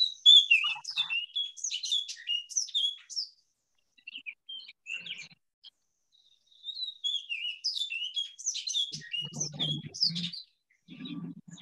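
Recorded oriole song: bursts of clear whistled notes mixed with dry chattering chucks, in two bouts with a pause between, fairly close and alone.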